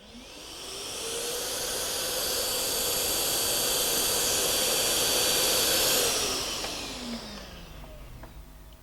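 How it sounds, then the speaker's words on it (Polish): A CTC SYS cordless vacuum cleaner runs up to a steady loud whirring hiss, holds for several seconds, then winds down and fades out. "uruchamiamy odkurzacz już bezpośrednio z pilota"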